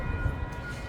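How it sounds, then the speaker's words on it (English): A train passes near a street corner, heard as a steady low rumble that stays loud and even across the brief moment. "I think there's another train coming."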